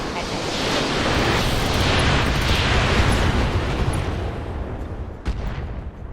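Artillery bombardment rumbles in a RogueTech battle game, a dense, sustained roar of blasts blending into one continuous wall of booming noise, with a sharp crack near the end.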